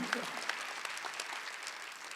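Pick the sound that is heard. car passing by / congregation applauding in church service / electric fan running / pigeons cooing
congregation applauding in church service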